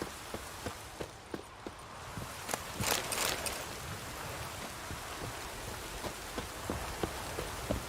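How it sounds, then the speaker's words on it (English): Rain falling in The Witcher 3, a soft steady patter with occasional sharper drips and taps scattered throughout, quiet and close, with a brief louder rush in the middle and no talking. "Looks like rain."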